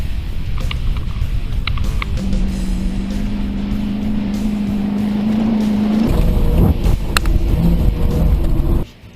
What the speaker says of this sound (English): I hear the engine bogging down through the really soft stuff